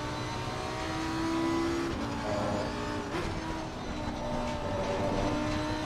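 Steady whine of a GT race car engine at speed in Assetto Corsa Competizione, sustained and droning with shifting pitch as the car runs through a lap.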